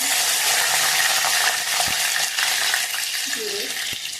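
Curry leaves hit hot ghee and two spoons of oil in a pan for a rustic Maharashtrian fresh-pavta amti, producing a loud, dense, continuous sizzle and crackle close by, with a couple of faint utensil clicks and no talking.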